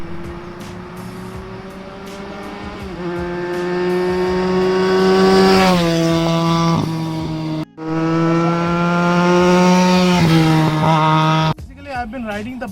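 A Benelli TNT 300 motorcycle fitted with an IXIL X60 exhaust revs up loudly and repeatedly, rising in pitch through two long pulls with a brief cut between, then a fainter, rougher burst at the end.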